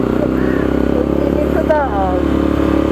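Motorcycle idling loudly with its silencer removed and exhaust left open, a steady throbbing drone under a short spoken phrase, with a brief rise in pitch partway through.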